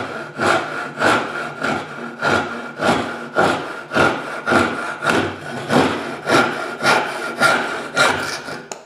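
A hand saw cross cutting wood makes a steady rasping rhythm of about a dozen even back-and-forth strokes, close and loud, with no talking.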